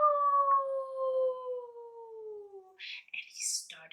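A single wolf howl, performed as a sound effect during a children's story, glides slowly downward for nearly three seconds, clear and alone, followed by brief rustling and shuffling noises.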